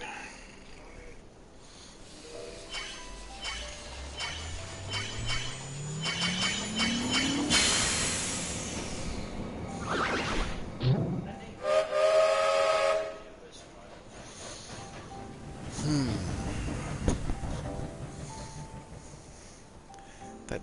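A steam train pulls away in the World of Final Fantasy video game, its chugging rising in pitch as it speeds up, then loud shrill whistle blasts, with fainter whistling near the end.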